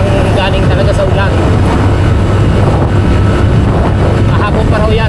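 Strong wind buffeting the microphone outdoors after rain, a loud, constant low roar and rumble filling the whole stretch, with a voice faintly audible beneath.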